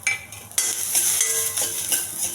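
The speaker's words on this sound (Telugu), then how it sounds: "ఇవన్నీ బాగా వేగించాలండి." Chana dal, mustard seeds, green chilli and ginger fry in a pan while a spoon stirs them, giving close, steady sizzling with brief metallic scrapes against the pan.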